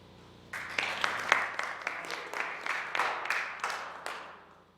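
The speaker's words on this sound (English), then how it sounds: "I always assume that the applause for Ian is like a summation of the applause that you meant for me as well." A small meeting audience claps in a short round, with about a dozen distinct, fairly regular claps that rise together and then trail off, sounding modest and somewhat distant.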